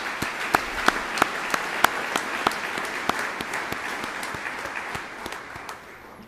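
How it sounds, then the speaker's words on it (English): A graduation ceremony audience applauds its graduating students, steady dense clapping from a large crowd with a few sharper nearby claps, continuing evenly before tapering slightly at the end. "I think we should acknowledge these students for their hard work with a round of applause."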